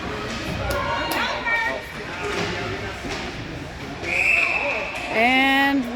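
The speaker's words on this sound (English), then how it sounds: "got a whistle" A referee's whistle shrills out in sharp blasts over the murmur of a crowd and echoing gym noise at a women's hockey game.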